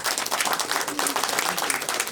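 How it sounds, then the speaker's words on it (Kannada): Applause and clapping from a crowd at the launch event for the Kannada film teaser My Name Is KD: a dense, steady patter of many hands, fairly loud and continuous for about two seconds. "ಜೋರಾದ ಚಪ್ಪಾಳೆ ಬರಲಿ."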